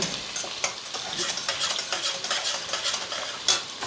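Small shallots sautéing in a pan for a Sunday non-vegetarian meal, a steady close sizzle with scraping stirs and occasional clinks of a spatula, no voices.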